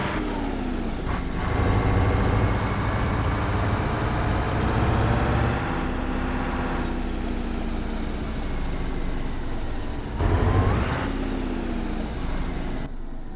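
A heavy truck engine, a turbo Caterpillar 3208 in American Truck Simulator hauling 32,000 pounds, rumbles steadily, its pitch rising and falling through gear changes, with air-brake hisses near the start and again near the end.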